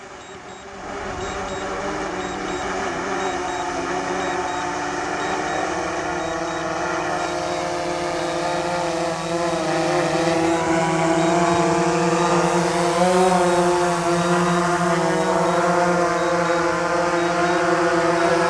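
DJI Phantom 4 Pro V2.0 quadcopter drone hovering and descending to land, a steady loud propeller whine with shifting pitch that holds close and constant throughout.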